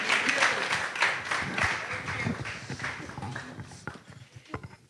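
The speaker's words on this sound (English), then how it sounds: "Let's give a round of applause to the panel as we go to sit." Audience applause for a panel at the close of an evening session on responsible content and regulation, a crowd clapping that starts fairly loud and thins out toward the end, with a few scattered voices.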